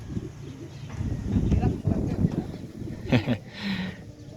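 Racing pigeons cooing at their loft, soft low throaty coos that rise and fall close by, with faint background noise.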